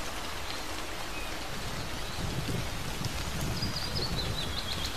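Rain falls steadily through a forest in a soft, even patter, with faint bird chirps now and then.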